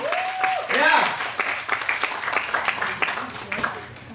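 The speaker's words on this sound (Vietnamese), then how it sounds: "Một tràng pháo tay, chúng ta sẽ cùng nhau chào đón người sitcom nhỏ to chú văn phòng." Applause greets a sitcom cast at a Vietnamese launch event, a burst of clapping that swells then thins, with a voice and some cheering mixed in over the crowd.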